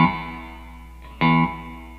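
A Squier Classic Vibe 70s Jaguar electric guitar plays through a 65 Twin Reverb amp modeler with reverb on. A sustained chord rings and decays, then a second strum sounds sharply before fading.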